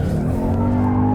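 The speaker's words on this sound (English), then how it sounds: "the biggest change, obviously, between the 4-cylinder and the GT is this engine and the soundtrack" A Ford Mustang GT V8 on a race track revs hard with a loud, steady engine drone and rising pitch under load, with tire noise in the background and no talking.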